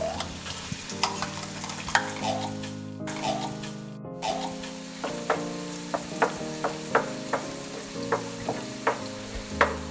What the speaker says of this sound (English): And now I'm going to be adding the tomato paste to the oil.